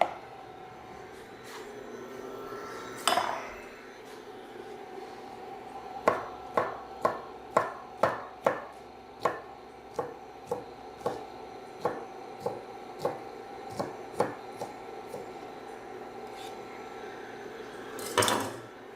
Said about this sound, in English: While that's warming up, I'll chop some of the asparagus.